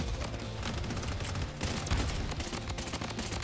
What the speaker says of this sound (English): I'm under heavy fire. I might die here.